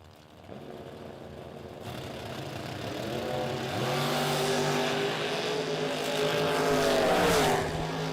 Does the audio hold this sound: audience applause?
no